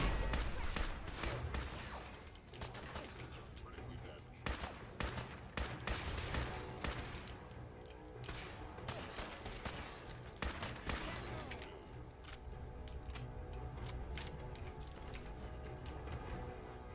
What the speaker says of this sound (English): Sure, let's activate the turrets.